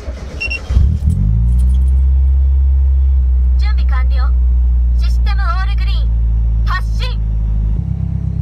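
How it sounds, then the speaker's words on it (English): Mazda Miata engine started and revved in place, a strong steady low idle rumble with a few rises in pitch, close and loud, while people talk over it throughout. "I'll turn on the car, I'll let you see how it works when I rev it"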